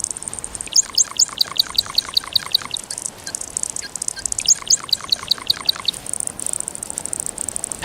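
A male bird's gurgling courtship call, close and clear, as rapid bubbling trills in two bursts over a steady high chirping background.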